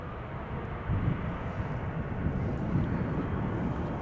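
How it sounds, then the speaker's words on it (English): A China Airlines cargo Boeing 747 arriving from Mumbai at Amsterdam Schiphol gives a low, continuous engine rumble, fairly faint and distant, swelling slightly midway and holding steady without speech. "A Chinese cargo 747 arriving from Mumbai."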